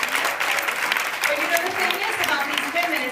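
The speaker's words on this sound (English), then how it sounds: "Let's give them a big round of applause." A seated audience at a leadership talk gives a round of applause, a continuous wash of clapping at moderate level throughout, with faint voices mixed in.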